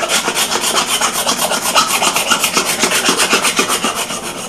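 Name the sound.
scraping wood with a scraper tool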